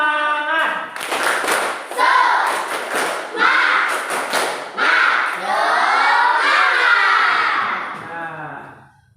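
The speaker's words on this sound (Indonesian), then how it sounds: "Coba Bapak pengen ingin lihat tepuk semangatnya." A classroom of students performs a rhythmic spirit clap, with sharp, loud clapping bursts in a steady pattern and many voices chanting along throughout, close and energetic.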